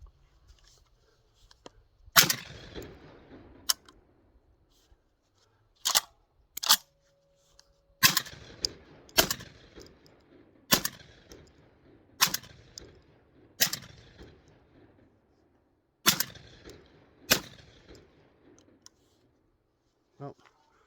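A Citadel Boss 25 shotgun fires low-velocity 1250 fps shells downrange outdoors, about a dozen sharp loud reports in irregular spacing, some in quick pairs, with faint handling clicks between shots.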